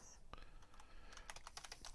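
Keys clatter on a computer keyboard in a quick, uneven run of light clicks, sparse at first and then denser, close to the microphone and fairly quiet.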